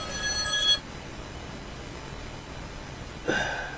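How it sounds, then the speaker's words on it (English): A telephone rings during an amateur radio net transmission, a short electronic ring burst at the start and another near the end, with a quiet hiss in the gap between them. "How do I get a phone call in the middle of a thing? Go away, phone."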